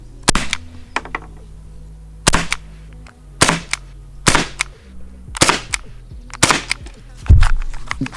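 A CO2-powered Tec9 airgun with a stainless steel barrel fires 12.5mm steel balls in a string of about nine sharp, loud pops, spaced irregularly with brief mechanical clicks between shots.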